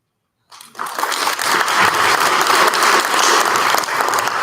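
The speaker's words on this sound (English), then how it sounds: "We could get a big round of applause" Audience applause for a student panel at a college event, starting after a brief silence and swelling into sustained, dense clapping that fills the room without talk.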